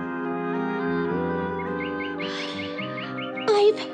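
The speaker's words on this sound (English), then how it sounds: "Galldora could hear the piping sound of a robin and the soft, trickling song of the willow warbler" Birdsong of a robin and a willow warbler, played as a story sound effect: light repeated chirps and a brief trickling phrase ride over sustained background music, fairly soft and close.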